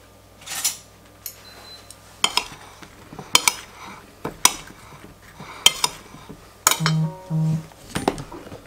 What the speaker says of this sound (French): on mélange bien, on enrobe les morceaux de pommes avec la farine